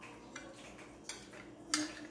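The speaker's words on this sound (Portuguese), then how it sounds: "Agora eu vou partir aqui um pedaço, tá? Eu coloco em um pratinho" A knife clinks and scrapes against a plate while a slice of warm gluten-free oat cake is cut and served, giving a few sparse, light metallic taps with quiet gaps between them.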